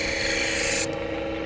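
Short raspy strokes of a hoof knife's curved hook being sharpened, a close, steady rubbing scrape that cuts off abruptly.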